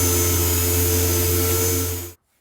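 A dual action sander works steadily on a metal forming work table built from 2x4s, a loud continuous whirring hum with a steady drone that runs alone for about two seconds and then cuts off abruptly into silence.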